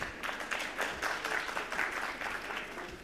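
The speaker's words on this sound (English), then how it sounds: "can we give a huge round of applause for our speakers?" A conference audience applauds speakers steadily for a few seconds, a dense wash of many hands clapping at moderate volume with no voices over it.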